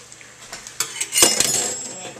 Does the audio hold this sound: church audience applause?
no